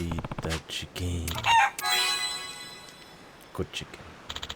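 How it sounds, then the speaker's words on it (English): Chicken cackling and crowing in the video game Like a Dragon: Pirate Yakuza, a few sharp bird calls rising over game ambience at moderate volume, with someone talking around them. "Feed the chicken."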